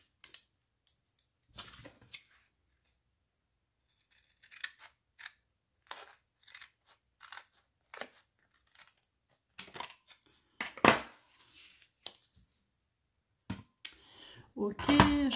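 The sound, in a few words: cutting with Lidl pinking scissors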